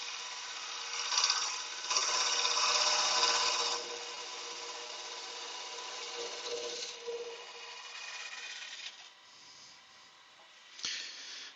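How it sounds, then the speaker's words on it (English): A scraper rasps down the inside of a hot clay vase, giving a close, steady broadband scraping that is loudest early on and then eases into softer strokes, with one brief sharp scrape near the end. "I'm just going to run the scraper down the inside of that"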